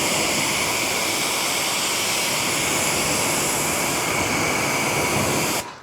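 Water spray rinsing a car during a maintenance wash, a continuous loud hissing rush that runs steadily throughout and cuts off abruptly at the very end, with no talk.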